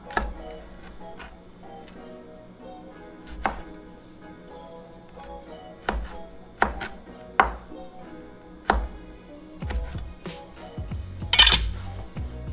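A knife chops ingredients for a vegan bacon and cheese omelette on a cutting board, with sharp, irregular close-up knocks spaced a second or so apart and a quicker cluster of cuts toward the end.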